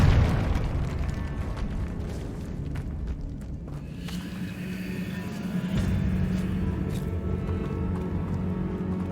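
A Confringo spell blast erupts in Hogwarts Legacy with a sharp burst at the start, then settles into a sustained, rumbling low roar of the explosion and game ambience.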